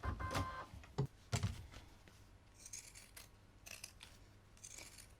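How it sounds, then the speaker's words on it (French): Pinking shears snipping excess fabric from a half-moon coin purse, with a few sharp close cuts at first, then softer, fainter cutting and rustling. "Je vais pouvoir maintenant couper l'excédent de tissu au ciseau cranteur."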